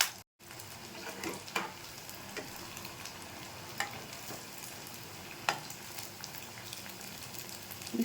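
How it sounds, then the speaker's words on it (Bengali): Chitrakut sweets frying in a pan of hot oil, a steady soft sizzle with occasional sharper crackles and pops as the pieces are turned, close and moderately quiet. "মিষ্টিগুলোকে উল্টে পাল্টে ভেজে নিচ্ছি।"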